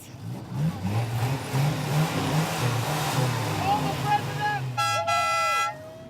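Ute engines rumble and rev nearby with people talking at the start of a ute run in Darwin, then a loud horn blares for about a second near the end.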